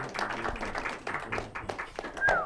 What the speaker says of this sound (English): Have a round of applause for Anthony.